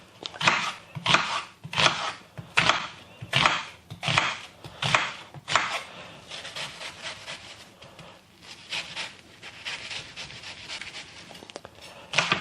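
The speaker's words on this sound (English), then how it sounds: "So it's just basically cut it into chunks like that." Tomatoes are chopped into chunks on a board for a tomato sauce: a quick run of regular knife strokes, then softer, more scattered cutting and rubbing sounds.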